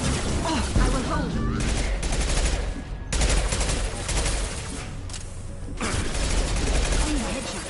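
Rapid bursts of gunfire in the video game Mass Effect 2, with loud, dense volleys of shots layered over battle noise and a brief voice.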